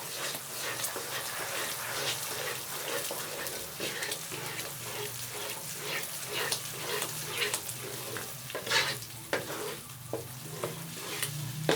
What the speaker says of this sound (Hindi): चम्मच आपने भी हिलाते रहना है।